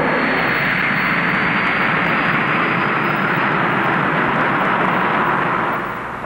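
Loud, steady roar of an F-15 fighter jet's engine thrust, a broad sustained rush that holds unbroken for several seconds before easing slightly at the end.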